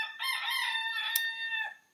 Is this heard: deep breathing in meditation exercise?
no